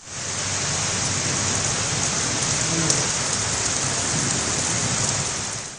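Steady, dense rain pours throughout during a thunderstorm, with a faint low rumble of thunder beneath the constant hiss of water on surfaces; no voices are heard.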